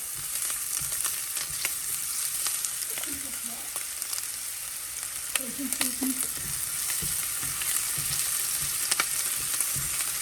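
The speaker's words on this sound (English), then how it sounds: "we're gonna saute these up until they start getting a little soft" Vegetables and garlic sautéing in a pan, a steady crackling sizzle with occasional stirring scrapes and clatters, close and moderately loud, with no one talking.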